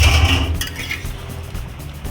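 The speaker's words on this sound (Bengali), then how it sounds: "এবার আবার ঢাকনাটা তুলি।" A lid comes off a pot of desi chicken kosha, a short metallic clink and scrape up close, then a quiet simmer.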